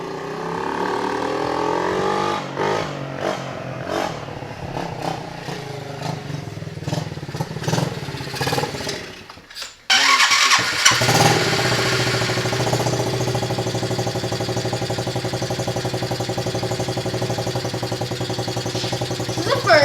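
An SSR pit bike engine runs and revs, idling unevenly at first, then cutting out briefly before roaring back at a loud, sustained high rev.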